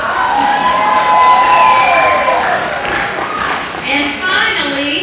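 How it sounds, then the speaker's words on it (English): Eighth-grade students and an audience cheer and shout at a middle school promotion ceremony, a loud sustained crowd roar with whoops rising and falling over several seconds. "Go ahead and cheer."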